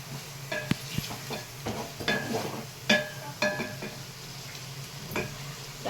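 Chopped tomatoes fry with masala in a pan for chicken curry, a soft steady sizzle broken by stirring scrapes and clacks of a spoon against the pan, fairly quiet, with no talking.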